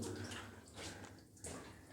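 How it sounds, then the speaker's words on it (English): A steady stream of water flows through an old gold mine adit at Tinkers Gully, New Zealand, making a faint, continuous rushing and trickling that barely changes over the short stretch. "Steady stream of water through."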